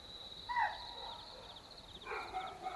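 Dogs bark and whimper in fear at night near a village, faint distant yelps and whines in short bursts over a quiet background with a steady high insect drone.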